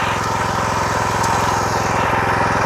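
A Rotakt MF 400 walk-behind tractor fitted with an adjustable ridger runs steadily in third gear while working potato rows, its engine a loud, close, continuous throb with no pauses.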